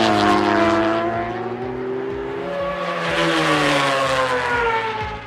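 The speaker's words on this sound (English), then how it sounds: "the sound at high revs turned into a true melody for fans of Boxer BMW engines" A BMW Boxer racing motorcycle engine runs at high revs, a loud, sustained tonal howl with clear harmonics that dips briefly and then climbs again as the rider shifts, heard alone with no talk.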